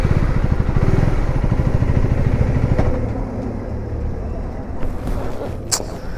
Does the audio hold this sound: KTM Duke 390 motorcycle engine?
yes